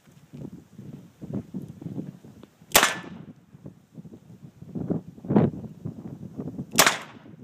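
.357 Magnum revolver test shooting outdoors: two sharp, loud gunshot cracks a few seconds apart, with wind buffeting and low rustling between them.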